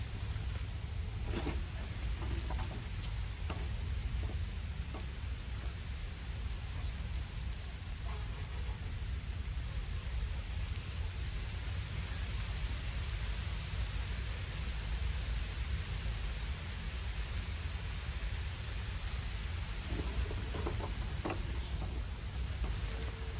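Heavy rain pours steadily over a village, a dense continuous hiss with a strong low rumble throughout and occasional brief louder spatters, no voices.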